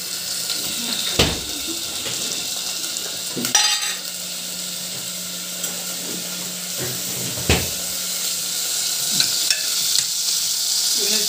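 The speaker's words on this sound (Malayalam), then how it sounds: "അപ്പൊ നമുക്ക് ബീഫ് ഇടാം" Small chopped pieces of beef fry and sizzle steadily in a pan for biriyani kanji, with occasional sharp scrapes and knocks as they are stirred.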